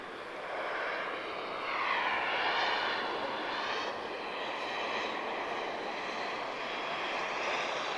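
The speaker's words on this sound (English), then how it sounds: "This is Iberia, Puerto Rico livery." An Iberia Airbus A320-214 in Puerto Rico livery, arriving from Madrid, makes a steady, loud jet roar as it comes in to land at Lisbon airport, with the engine whine rising and falling slightly and no voices.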